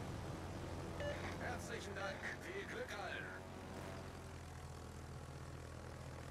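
Torpedo bomber aircraft engines in World of Warships make a continuous propeller drone under a low rumble, with a voice talking over the first few seconds.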